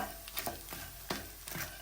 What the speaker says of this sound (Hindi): सारी गोंद मैंने इकट्ठी नहीं फ्राई की, आधी पहले फ्राई कर रही हूँ और आधी इसके बाद फ्राई करूँगी ताकि ये आपस में जुड़े नहीं।